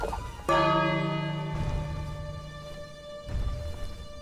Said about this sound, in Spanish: sonará la campana